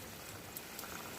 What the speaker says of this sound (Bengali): ঝোলটা ফুটিয়ে নেব।